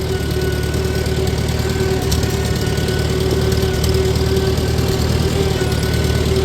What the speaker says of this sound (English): then I'm going to start mowing lawn